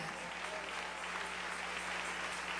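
A church congregation applauds steadily through a Spanish-language sermon, a dense, even wash of clapping held at a constant level from start to finish.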